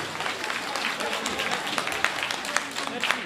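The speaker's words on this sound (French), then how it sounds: "Il faut l'applaudir, hein?" Applause from a political rally crowd at a UFDG party event in Philadelphia, a dense continuous patter of many hands clapping throughout, fairly loud and steady with a few sharper claps standing out.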